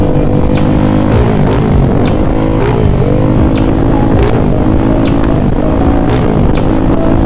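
Motorcycle exhaust (knalpot) rumbling loud and close, a steady low throaty drone with slight rises in revs, no voices.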